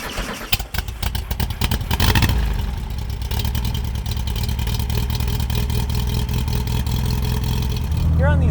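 A 1970 VW Beetle Type 1 cruises on back roads at about 35 to 40 mph, giving a loud, steady engine drone with rattling from inside the car that swells briefly near the end.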